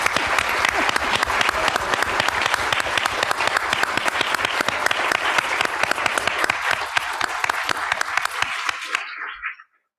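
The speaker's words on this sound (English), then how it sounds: "maybe we can give everybody a round of applause" Audience at an institute awards ceremony celebrating students and employers gives sustained, steady applause for about nine seconds, loud and even, cutting off abruptly at the end.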